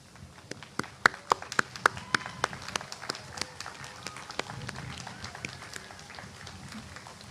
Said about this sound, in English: Thank you for your applause in recognizing these students.